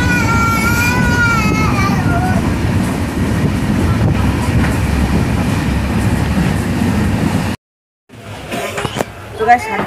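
A Kandari Express train running from Howrah to Digha gives a loud, steady rumble with rail clatter, with voices over it throughout and a brief dropout near the end.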